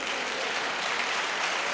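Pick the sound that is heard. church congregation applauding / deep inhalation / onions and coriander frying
church congregation applauding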